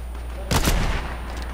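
Sniper rifle fire in the game Fortnite: a single loud crack with a broad rumbling burst lasting a fraction of a second, standing out over a steady low game background.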